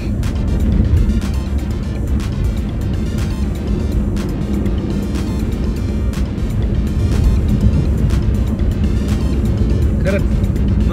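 Steady, loud traffic roar rolls along the Pune–Mumbai Expressway, a continuous broadband rush of passing cars with a few sharp ticks and no clear gaps.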